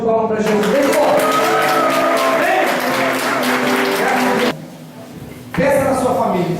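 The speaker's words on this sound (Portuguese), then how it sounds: "Dê uma salva de palmas para Jesus" A church congregation claps and cheers together in a loud, sustained burst with voices mixed in, breaking off into a short lull before the clapping resumes.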